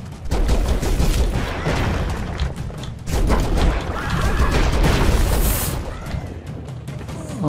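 Machine gun fire in the side-scrolling action game Broforce rattles in dense, loud bursts with booming impacts, nearly continuous, then tapers off near the end.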